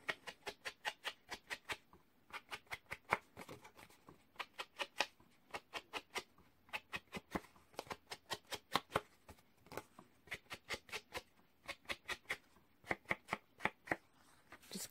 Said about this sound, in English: I'm just going to ink around the edges